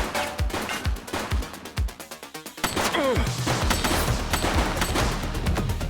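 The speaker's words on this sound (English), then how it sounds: "He's shooting!" Gunfire in the police video game The Precinct: rapid, loud bursts of shots crack repeatedly, with a brief lull before a dense, sustained volley of gunfire and impacts.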